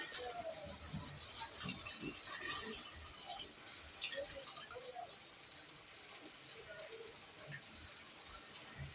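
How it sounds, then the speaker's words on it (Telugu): Water is poured into a pan of chicken curry with a steady, fairly quiet hiss and rush that continues for several seconds without a break. "ఇది కూడా నీళ్ళు పోసేస్తా, తగినన్ని నీళ్ళు పోసేస్తా."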